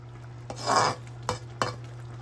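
Brinjal and tomato curry being sautéed and stirred in a pan, a soft sizzling scrape followed by two quick spoon knocks against the pan over a low steady hum, close and without voices.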